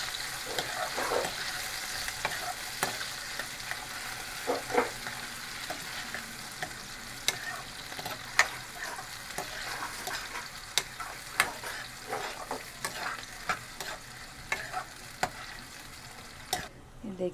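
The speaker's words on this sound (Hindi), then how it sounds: "अब इसमें हम प्याज डालेंगे। अब इसे हम अच्छी तरह हल्का ब्राउन करेंगे," Chopped onions sizzle and fry in a pan while being stirred for palak paneer, a steady frying hiss broken by frequent scraping clicks of the spoon, close and continuous, with faint speech now and then.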